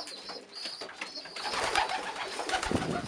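A pigeon feeding its chicks coos softly, first faint and then fuller and closer, with low throaty rolls and a few rustles.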